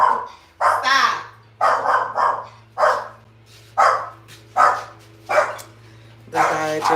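A dog named Jersey barks repeatedly and loudly at a workman fixing something indoors, about eight sharp barks in an irregular rhythm over a steady low hum.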